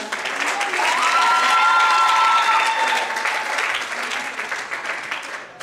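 A church congregation bursts into loud, sustained applause with scattered cheers and whoops, swelling then slowly fading, heard close and without speech.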